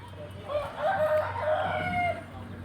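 A young white rooster crows once in the evening, a drawn-out, wavering call of moderate loudness lasting about a second and a half over faint background hum.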